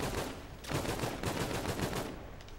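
Rapid, high fire-rate gunfire in a video game: dense, sustained bursts of shots that rattle on almost continuously, loud and close, with a short let-up before the firing resumes.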